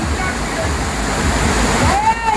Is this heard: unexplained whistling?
no